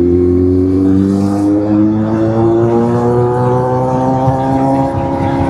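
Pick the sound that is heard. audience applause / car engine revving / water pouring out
car engine revving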